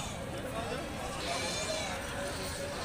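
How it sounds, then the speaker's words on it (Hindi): Barbari goats bleat at a crowded livestock market, with a steady noisy murmur of people and activity around them and voices talking throughout. "इधर और एक बर्बरी बकरी देखिए"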